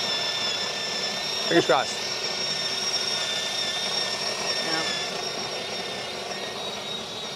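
The built-in coffee grinder of a De'Longhi La Specialista Arte espresso machine runs with a steady, even whirring drone throughout, while a voice speaks briefly near the start.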